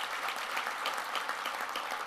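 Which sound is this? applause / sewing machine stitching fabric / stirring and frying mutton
applause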